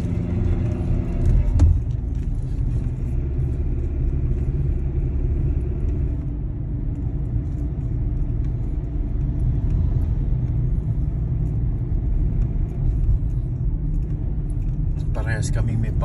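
A car on a short three-minute drive, with a steady low engine and road rumble heard from inside the cabin and a few brief clicks.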